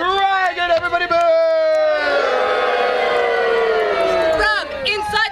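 A crowd of children in a storytelling audience boos a dragon together, a loud sustained group vocal with many overlapping voices that swells and then fades.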